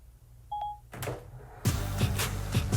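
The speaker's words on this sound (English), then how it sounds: "it may just look like an ordinary shoe rack, but it's another secret door that I can control using my phone" A short electronic beep sounds first, then a phone-controlled hidden door built into a closet shoe rack swings open with a thump and a steady mechanical rumble, close and fairly loud.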